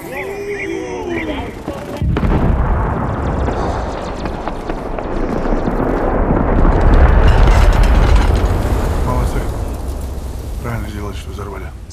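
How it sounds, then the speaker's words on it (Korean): Explosions rumble beyond a mountain in a desert war film, a loud, sustained low roar swelling from about two seconds in and holding, with speech present alongside it. "산 너머의 폭발음을 듣고 안도하지만 이내 심상치 않음을 느낍니다"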